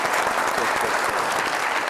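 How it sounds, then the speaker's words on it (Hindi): Loud, dense applause for a DJ during an Eid special TV broadcast, a steady, full wash of many hands clapping at once with no pause. "बहुत सारी तालियां डीजे के लिए"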